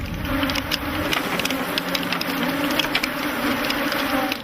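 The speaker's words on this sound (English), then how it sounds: "there must be several million bees swarming around the men" Honey bees swarm around beekeepers working modern hives in Africa, a dense, steady buzzing hum that fills the space close by without pause, with no talking.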